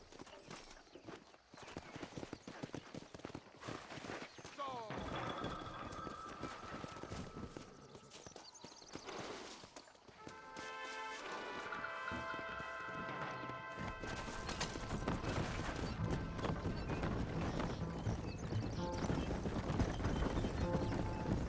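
Steady clip-clop of horse hooves trotting amid a busy, layered Red Dead Redemption soundscape with music and effects, continuing throughout.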